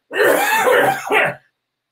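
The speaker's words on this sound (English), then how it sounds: "he's gonna cough all night" A single harsh, rasping cough from one person sounds close and loud, a long throaty burst followed by a shorter second push, then silence.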